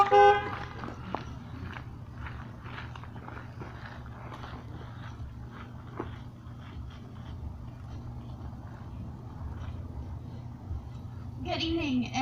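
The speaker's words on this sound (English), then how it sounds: "You're gonna honk of a horn for Nicole." A car horn toots briefly at the start and again near the end, with a low hum and faint voices in between.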